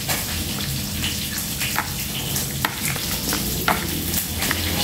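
Young jackfruit salad being tossed with a spoon in a bowl, with soft scraping and wet stirring sounds and a few sharp clicks over steady kitchen background noise.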